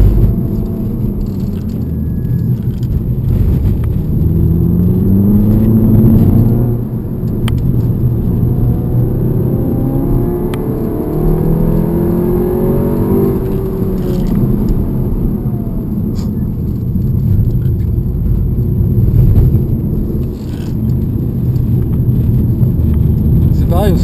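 A Seat Leon Cupra is driven hard around the wet Lohéac circuit. Engine drone, heard from inside the car, rises and falls with the revs, and a rumbling road roar continues throughout.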